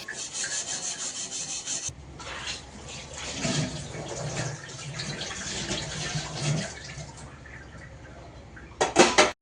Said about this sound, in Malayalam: അങ്ങനെ പാത്രം കഴുകലും നടന്നു.